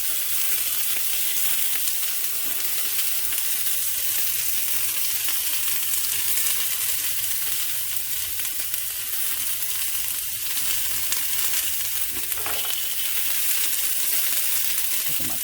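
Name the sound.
banana peel bacon sizzling while frying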